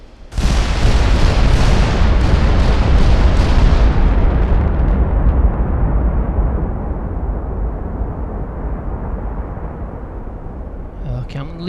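Naval HE and AP shells firing and exploding in the Ultimate Admiral game, a huge booming blast with crackling bursts that settles into a long, loud, rumbling roar fading slowly over several seconds.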